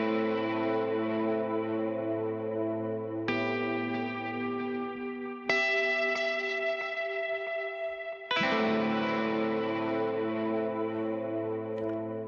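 Sustained synth chords from the Audiomodern Soundbox Opacity pack, played alone in four long held blocks that change abruptly every few seconds, with a wide, chorused, reverberant texture and no talking.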